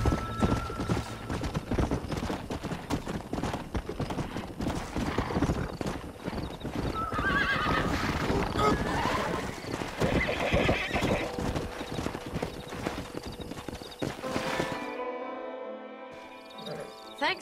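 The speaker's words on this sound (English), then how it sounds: "We got some fine horses." Horses clip-clopping and whinnying in the Western game Red Dead Redemption, with hoofbeats running steadily and loudly throughout and neighs rising over them before a brief quieter tail.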